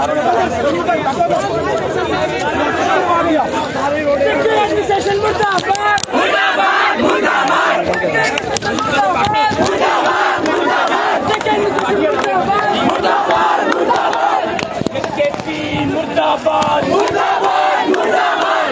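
Protesting students at Reasi outside a JK Board office chant 'murdabad' slogans in loud rhythmic unison, a dense crowd roar of repeated shouted phrases with overlapping voices and no pauses.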